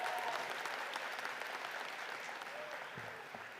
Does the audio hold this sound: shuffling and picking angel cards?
no